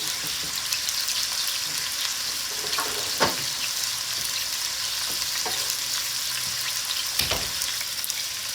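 Garlic sizzles in a pan with pork ribs, a steady close frying hiss with a few sharper spits and crackles, no voices.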